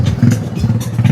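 A Honda Benly cafe racer motorcycle engine idling close by, a loud low steady chugging throb with a rapid uneven pulse over a short moment.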